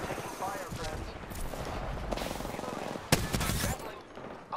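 Rapid automatic gunfire from a first-person shooter video game crackles in dense bursts, with one sharp loud shot standing out, under a player's excited talking.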